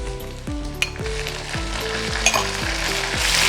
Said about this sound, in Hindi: लहसुन अदरक की पेस्ट शामिल करके इसे अच्छी तरह से फ्राई करेंगे